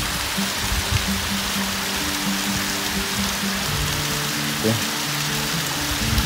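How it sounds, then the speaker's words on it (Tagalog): Rushing water from a waterfall on the Wadi Shees nature trail makes a steady, broadband roar that runs through the clip, with faint low tones beneath. "We have also waterfalls here."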